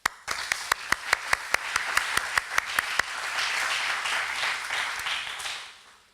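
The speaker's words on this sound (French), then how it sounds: "Alors je vous prie de les applaudir très fort." Audience applause at an official ESR label award ceremony: a handful of sharp single claps at first, then building into sustained, dense clapping from a crowd that holds steady before fading out.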